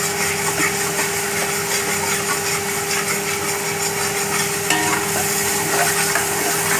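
Ginger-garlic paste being stirred into biryani masala frying in a pan for Hyderabadi chicken dum biryani: a steady close sizzle with scraping stir strokes over a constant low hum, no talk.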